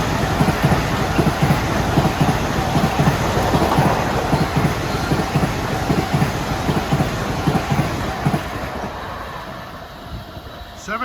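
A Long Island Rail Road train passing New Hyde Park station during the morning rush, a loud, sustained rumble with rapid rhythmic clacking of wheels over rail joints, easing slightly near the end.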